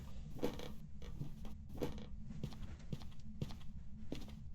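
Footsteps climbing a staircase inside a house in the ghost-hunting game Phasmophobia, a steady series of about eight dull thuds, evenly paced and fairly close, with a creaky tone over a constant low background hum.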